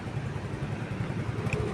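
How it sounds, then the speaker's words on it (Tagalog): A motorcycle engine idling as it warms up, a steady low rumble with regular pulsing beats, close and continuous, with no talk over it. "Painitin lang muna natin makina."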